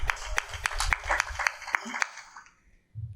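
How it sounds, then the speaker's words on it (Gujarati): An audience claps at a devotional discourse, quick sharp claps packed together and fairly loud for about two seconds, then thinning out and fading to quiet, with a brief murmur near the end. "આટલા સ્વીકાર કરી શક્યા એ બદલ તાળીથી વધાવું છું"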